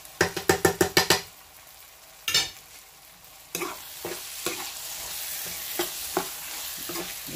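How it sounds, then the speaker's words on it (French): A spoonful of tomato paste sizzles in a pan while being stirred, opening with a rapid series of sharp scraping taps, then a continuous frying hiss with intermittent spoon scrapes, close up. "ça fait 1 minute que ça rissole un peu. Je mets la cuillère à soupe de tomates concentrées"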